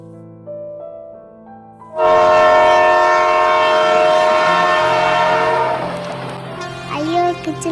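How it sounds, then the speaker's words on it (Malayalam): A train arrives at a station, opening with a long, loud horn blast over a rising rumble, followed by rolling wagon noise and clickety-clack as it slows, with a faint voice in the background. "ട്രെയിൻ ഇവിടെ വരുമ്പോഴേ നിർത്തും"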